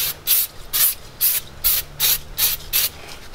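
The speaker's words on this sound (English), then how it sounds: "Give it one more spray down," Eight short, sharp hissing bursts of a spray bottle spraying cleaner onto a Jeep Compass front brake area, evenly spaced in a steady rhythm, close and fairly loud with a faint low hum beneath.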